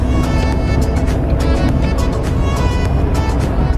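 A car on the road to an optician's shop, its engine and tyre noise a loud, steady rumble heard from inside, with no one talking.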